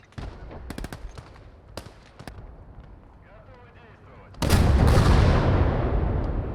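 Scattered sharp gunshots in the video game Call to Arms: Gates of Hell crack at intervals, then a loud sustained blast of firing or explosion takes over, with a voice heard briefly in between.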